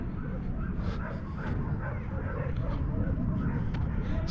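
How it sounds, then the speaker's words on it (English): A large number of dogs bark and whimper at a Cyprus animal rescue, an ongoing chorus of overlapping barks within a busy, noisy ambience. "Enormous amount of dogs here"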